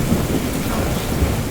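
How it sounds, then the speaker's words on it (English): A heavy outdoor downpour hisses in a dense, continuous wash with low rumbling thunder underneath, loud and unbroken. "there's a complete downpour happening out here."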